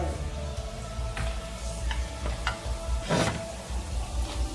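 Beef samosas fry in a pan with a constant crackling sizzle, broken now and then by short clicks and scrapes.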